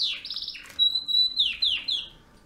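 A nightingale-strain canary sings nearby, alone, with a quick trill followed by sustained clear whistles and a few falling chirped phrases.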